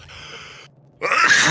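A single sneeze bursts out loud and close after a short pause, following a stretch of quieter hum and breathy noise.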